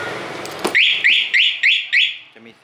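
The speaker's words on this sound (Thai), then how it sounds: "เดี๋ยวเราจะมากดล็อกให้ดูนะครับกดล็อก1ครั้ง" A Z300 car alarm chirping as the car is locked: a short burst, then five rapid, loud, evenly spaced high electronic chirps close by, ending with a faint lower tone.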